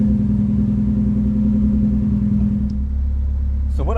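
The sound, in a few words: Nissan 240 car engine revving to clear out fuel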